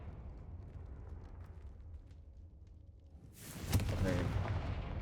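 A Confringo fire spell in Hogwarts Legacy bursts late on, a loud fiery whoosh and crackling blast that rises suddenly after a quieter stretch of game ambience.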